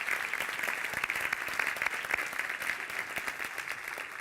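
Steady, dense applause fills a hall at the Owensboro Girls Inc. Athena Awards ceremony, an even crowd of clapping hands rolling on without a break.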